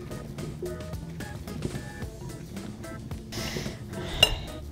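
Melted butter being mixed into cauliflower florets in a bowl, with a utensil clinking and scraping against the dish in irregular light taps and a brighter clink near the end, close and fairly quiet, no talking.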